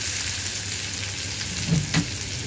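Chopped onions fry in hot oil with a loud, steady sizzle, broken near the end by a couple of brief sharper crackles as the pieces are moved around.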